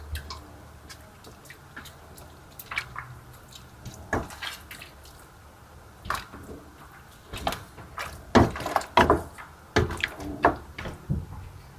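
A spoon works tomato paste into a seafood risotto of rice and clam juice in a pan, making faint, scattered wet clicks and squishes that grow busier and more frequent toward the end.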